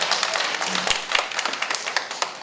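Audience applause at a conference-style panel discussion on domestic violence against marriage migrant women, a steady patter of many hands clapping at moderate level with no talk over it.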